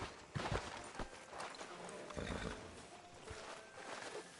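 Horse hooves clop along at a steady walk amid a rumbling, noisy Red Dead Redemption 2 game soundscape in the town of Rhodes, moderately loud and continuous.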